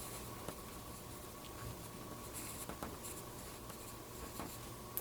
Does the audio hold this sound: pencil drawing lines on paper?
yes